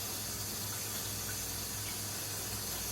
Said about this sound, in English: I picked some sage because I'm going to work it into something today, so I'm going to wash it up real good.